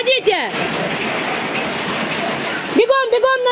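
Heavy rain downpour pouring steadily as a dense, loud hiss, with a voice talking briefly at the start and again at the end.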